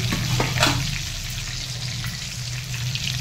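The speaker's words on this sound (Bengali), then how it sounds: "আমার কপিটা ভাজা রেডি হয়ে গেছে, আমি তুলে নেবো।" Cauliflower florets frying in hot oil, prepared for a Bengali fish curry with shing fish, give a steady close crackling sizzle throughout, with a few brief stirring scrapes near the start.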